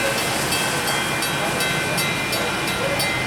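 An FEC freight train rolls past at Hialeah Yard in Miami, a loud, continuous rumble and hiss of railcars with faint rhythmic clicks of wheels over rail joints.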